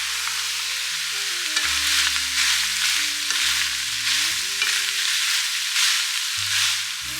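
Food sizzles and fries steadily in a hot pan, a dense continuous crackle with a few louder bursts and background clatter, no voices.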